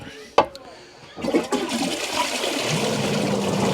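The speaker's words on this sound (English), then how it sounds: "we're going to flush it, see what she sounds like" A toilet in a house built with cardboard walls flushes after a sharp click of the handle, a loud rushing swirl of water that continues as the tank refills; a person talks faintly nearby.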